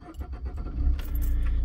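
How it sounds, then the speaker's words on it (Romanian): A Suzuki Ignis is started from a near-cold engine, keys jingling first before the engine cranks and rises into a close, steady idle within a second or so. "Se pornește mașina, facem un fel de cold start"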